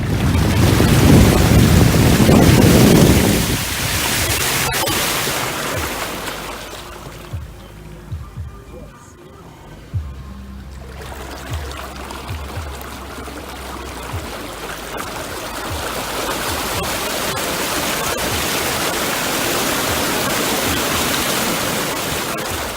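A car drives through deep floodwater in a parking lot after a thunderstorm. A loud rushing surge of water opens the sequence, then comes a quieter lull, then a steady wash of spray and water noise.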